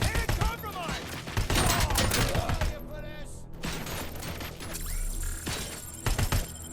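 Rapid bursts from an HK G11 assault rifle in a video game: dense, loud automatic fire with a brief lull in the middle, mixed with crashing impacts and some talking.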